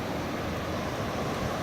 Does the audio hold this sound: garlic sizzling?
no